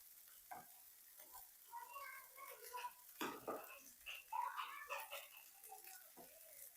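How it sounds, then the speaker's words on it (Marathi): Cumin seeds sauté in hot oil for jeera rice, producing faint, scattered crackles and light stirring clicks in a quiet kitchen. "हे पहा, अगदी छान असं परतेपर्यंत पूर्ण आपले जिरे तेल एकजीव होईपर्यंत ह्याला परतून घ्यायचं."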